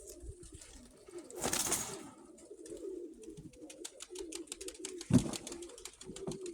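Blue-grey hen pigeons in a loft give soft, repeated low cooing throughout, with a brief rustling flurry early on and a sharper flap or knock near the end.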